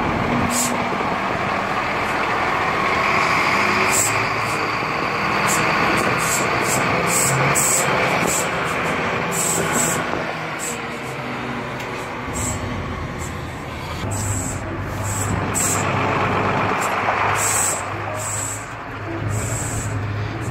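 A 2004 Ford Cargo truck fitted with a cab suspension system is driving on the road, with a continuous loud engine drone and road rumble, and repeated rattles and clicks from inside the cab.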